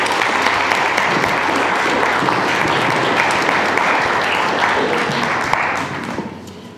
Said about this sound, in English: Do a round of applause, please.